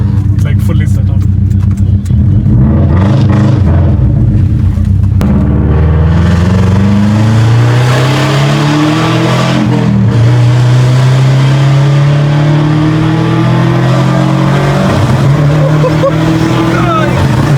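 A Subaru GVB with anti-lag fitted but switched off revs hard through a loud exhaust, the pitch climbing and falling in long sweeps, very close and dominant while people talk over it.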